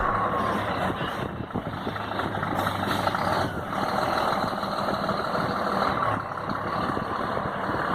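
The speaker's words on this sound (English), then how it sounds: "Damn, that truck sounds good." A truck engine idles loudly and steadily nearby, a continuous low rumble with no speech.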